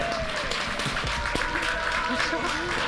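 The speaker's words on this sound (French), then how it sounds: "Sous vos applaudissements, Verdun, s'il vous plaît." An audience applauds as a guest official steps onto the stage at a closing ceremony in Verdun, with fairly faint, steady clapping and voices in the hall mixed in.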